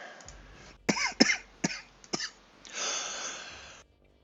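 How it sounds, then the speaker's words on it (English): A person coughs several times in a short, uneven burst of close, sharp hacks, followed by a longer breathy exhale, in an otherwise quiet room. "Get a little bit of a cough this morning."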